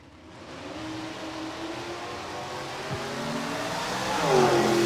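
A green Chevrolet Camaro drag race car roars from a distance, its engine note building steadily louder over several seconds as it approaches.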